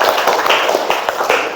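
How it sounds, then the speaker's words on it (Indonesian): A seventh-grade class claps in a classroom, giving short bursts of close, fairly loud hand claps with an uneven rhythm. "tepuk tangan buat kelas 7 ya"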